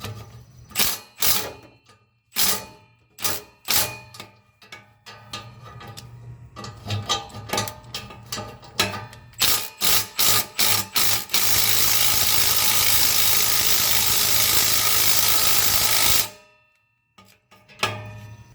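Milwaukee M12 cordless ratchet working on rusted muffler bolts of a Nissan Versa, with rapid bursts of ratcheting clicks and short pauses, then a long steady motor whir before stopping, followed by a few more quick clicks.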